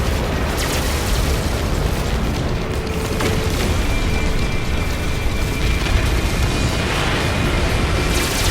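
Continuous dense explosions and booming blasts from destroying pirate freighter cannons in the space game No Man's Sky, loud and relentless throughout with layered rumbling and crackling bursts.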